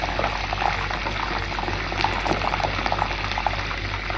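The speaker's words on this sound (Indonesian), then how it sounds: "Kita mulai menggoreng terongnya." Steady crackling sizzle of eggplant frying in hot oil, dense and continuous with small pops scattered throughout, close by.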